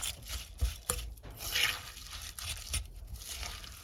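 Rolled oats being mixed with a fork into a banana cookie dough with dark chocolate and tahini, giving soft rubbing, scraping and crunchy stirring strokes in a few irregular bursts, close and fairly quiet, with no talking.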